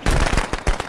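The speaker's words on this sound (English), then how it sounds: "Firecrackers, start it. I got another firecracker." Firecrackers bursting in a video game, a rapid run of loud, sharp cracks going off close together across the whole moment.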